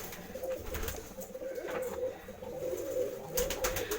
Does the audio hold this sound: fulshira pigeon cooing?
yes